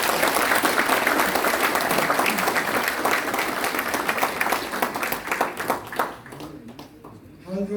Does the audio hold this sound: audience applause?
yes